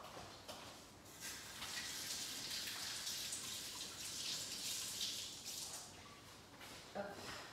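Running tap water over fingers being rinsed, a steady faint hiss of flowing water with small splashes, continuous throughout.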